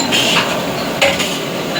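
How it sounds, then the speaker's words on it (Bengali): Food for a wedding meal is stirred in cooking pots, a close, continuous scraping and clinking with one slightly louder knock partway through. "রান্না শুরু হয়ে গেছে এখানে।"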